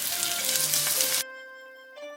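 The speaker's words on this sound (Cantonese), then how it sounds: "去肉嗰邊咧就煎一煎，鎖住啲龍蝦汁" Lobster pieces hit hot oil in a wok with a loud, bright sizzle for about a second, then the frying drops sharply to a quieter, steady crackle with a faint scrape near the end.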